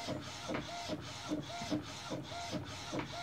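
An Epson SC-P600 inkjet printer prints white ink onto black, its print head shuttling back and forth in a steady repeating rhythm of whirring passes with soft clicks at each turn, close and fairly quiet.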